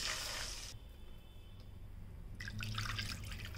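Water running into a cooking pan while making moraiyo (barnyard millet), two cups for one cup of grain, a trickling, splashing pour near the mic that stops briefly and then resumes more strongly, alone without talk.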